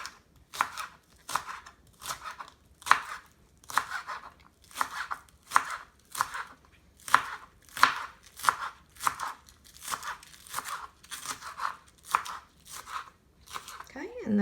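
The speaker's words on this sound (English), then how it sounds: "I'm going to chop those up." Green onions being chopped with a knife on a board, with crisp, evenly spaced strokes repeating close up at a steady rhythm.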